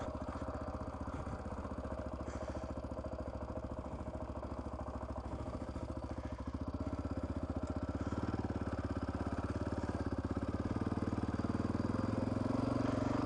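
A Honda XR650R motorcycle engine runs at a steady throb, loud and continuous throughout, with no one speaking.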